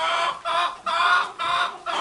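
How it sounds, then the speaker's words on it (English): A chicken clucks loudly and close up in a rhythmic run of four drawn-out, throaty bursts with brief gaps between them, heard outdoors with no talking. "Got a chicken telling you a story."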